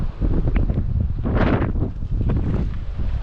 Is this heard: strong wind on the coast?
yes